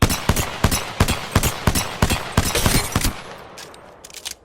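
A low-recoil scout rifle fires in a shooter video game, a rapid run of about a dozen sharp, loud shots in quick rhythm, followed by a few fainter pops as the burst tails off.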